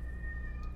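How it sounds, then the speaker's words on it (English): A pet cat lets out a brief, faint meow, close by, over a steady low background hum with no talking. "Cat says hello. I hope you can hear him."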